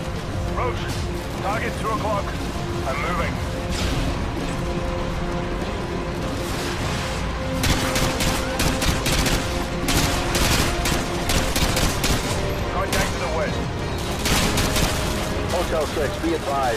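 Heavy video game gunfire, dense bursts of shots and blasts spread across the whole stretch, with loud peaks toward the end and game voices talking over the shooting.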